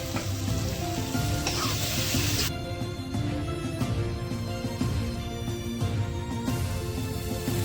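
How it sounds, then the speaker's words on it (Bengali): Spices with turmeric and Kashmiri chili powder fry in hot oil, a loud, continuous close-up sizzle with stirring that shifts in brightness partway through, heard alone without any voice. "এবার মশলাটা ভাজা হয়ে গেছে"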